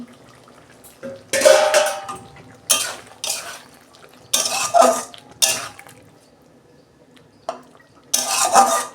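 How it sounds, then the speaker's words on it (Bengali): A metal lid comes off a cooking pot in a home kitchen where potatoes and stems are steaming, giving several loud clanks and scrapes separated by quiet gaps, with a faint simmer underneath. "দেখুন বন্ধুরা, ঢাকনাটা আমি খুলছি।"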